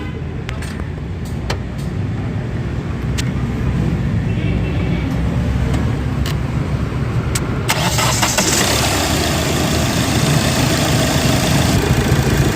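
A Hyundai Verna's engine cranks and fires up during a water pump belt replacement, then settles into a steady, close idle with a hissy rise partway through.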